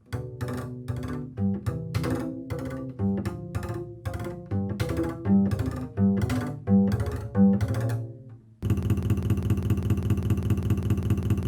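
A double bass is struck with the wood of the bow in quick tapping strokes, giving dry, percussive pitched clicks, then a buzzing sustained tone follows.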